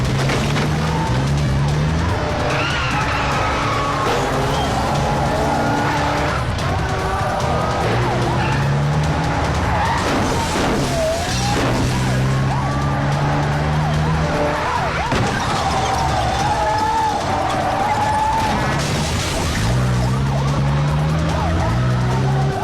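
A car speeds through a police chase with loud engine roar and repeated tire squeals and skids, continuous and close throughout, with voices and other vehicle noise mixed in.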